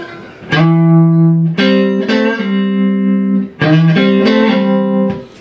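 A clean electric guitar plays a slow, ringing blues intro phrase, sustained notes and bends overlapping, close and loud with no voices.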